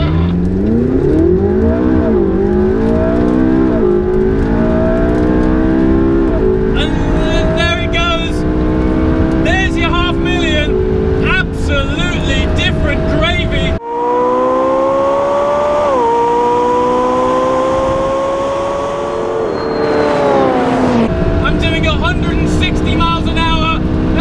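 A McLaren 675LT sports car with twin-clutch gearbox accelerating hard, its engine rising loud and close through several gear changes, with someone talking over it.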